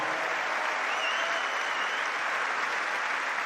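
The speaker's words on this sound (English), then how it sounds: "so you can cut the applause" Sustained audience applause at Wimbledon Centre Court during a centenary celebration, a dense, even wash of clapping from a large crowd without a break.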